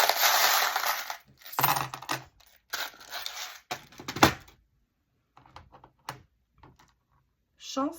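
Small fortune-telling charms are tossed and land in bursts of rattling, clicking impacts, loud at first and then thinning into a few scattered light clinks separated by silence.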